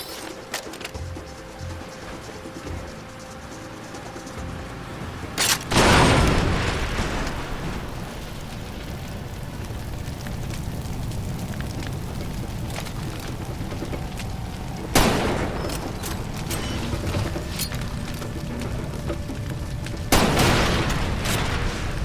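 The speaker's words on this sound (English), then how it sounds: "Using a combination of explosive bolts and grenades, I held my ground, delivering a spectacular level of chaos." Explosive bolts and grenades detonate in a S.T.A.L.K.E.R.-style shooter game: three loud booms land about 5, 10 and 15 seconds apart, each followed by a long crackling, rumbling tail of debris and fire.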